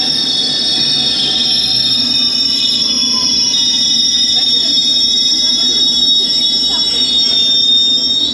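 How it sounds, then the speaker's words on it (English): A loud London Underground train arriving at a King's Cross platform rumbles and screeches steadily at close range, with high metallic wheel squeal and whining tones over a deep roar. "So here's my train, and I'll take this."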